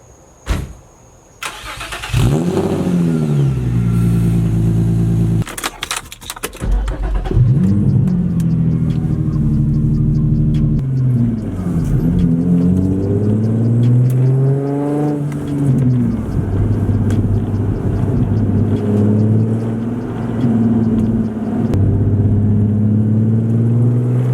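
An Infiniti car starts up at night and pulls away, its engine revving loudly and rising through repeated gear shifts, with a few sharp clunks early on and no talking over it.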